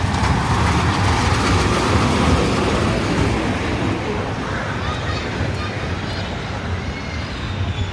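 A train rumbles past close by near Mohera, Tangail, a loud, broad roar with rattling that slowly eases, while a voice speaks faintly over it.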